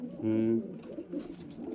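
A Kalpara racing pigeon, kept for competitive flying, gives one loud, close, rumbling coo, followed by softer background sounds and faint voices.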